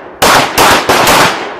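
Rifle gunfire on a U.S. Marine shooting range in Sarajevo, Bosnia-Herzegovina: three loud, close shots in quick succession, each a sharp crack trailing into a long, echoing rumble that fades out at the end.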